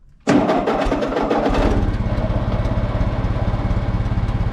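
A 1939 Ford 9N tractor engine cranks, catches with a sudden loud burst, then settles into a steady, rhythmic chugging idle close by, with no talking.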